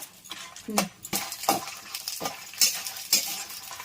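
Coriander seeds, chana dal and dried red chillies dry-roasting in a pan, a rhythmic run of close scraping stirs with light rattling and clinks over a faint sizzle, no talk.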